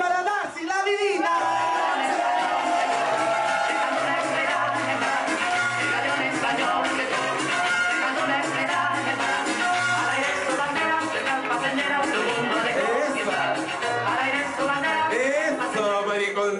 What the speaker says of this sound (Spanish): Fuerte el aplauso para Darcy, la divina